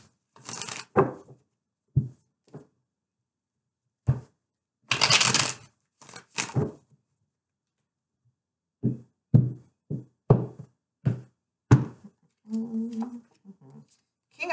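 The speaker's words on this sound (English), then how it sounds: "2 more shuffles" Tarot cards are shuffled in several short, crisp riffling bursts separated by pauses, close and fairly quiet, with a few soft taps between.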